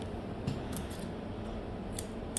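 Grooming scissors snip through the coat of a Coton de Tulear during a full haircut, giving a handful of sharp, close metallic clicks spaced irregularly over a low steady background.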